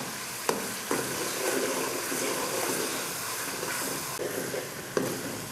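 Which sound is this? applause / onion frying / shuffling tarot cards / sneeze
onion frying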